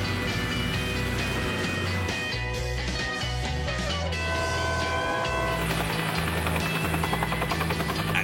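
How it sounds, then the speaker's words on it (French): A Bell 205 helicopter flying over a wintry bush landscape, a steady loud rotor and turbine drone with layered tonal whine lasting throughout. "pose l'hélicoptère sur un lac gelé, à une vingtaine de kilomètres au nord de la base"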